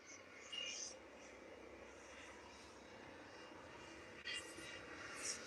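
Business jet at Liverpool Airport heard as a faint, distant, continuous engine rumble and whine, with low whispered-level talk mixed in.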